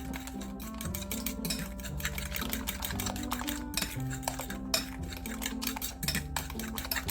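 A whisk or spoon rapidly mixes banana cake batter just after oil is poured in, producing a fast, continuous clatter of metal against the bowl, close and steady with no talk.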